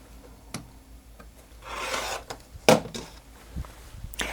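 Quilt fabric being trimmed for a scrappy star block, a soft close swishing cut with a few light taps and thumps around it, quiet and without talking.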